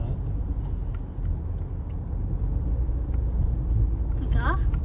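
A Volvo 740 GLE cruising on gentle throttle, a steady low engine and road rumble that swells slightly toward the end, with a short voice briefly over it.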